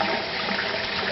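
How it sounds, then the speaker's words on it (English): Tap water runs steadily while hands are washed beneath it at a kitchen sink, with a constant broadband hiss, close and fairly loud, and no talk. "Let me just wash my hands real quick."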